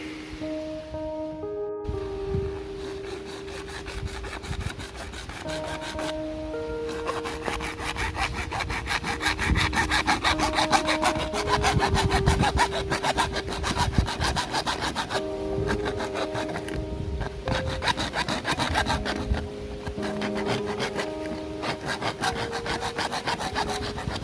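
Hand sawing through the rim of a plastic bucket to make an opening for a pipe in a homemade poultry feeder setup, a steady rhythmic back-and-forth rasp that runs continuously and close up, with background music and no talk.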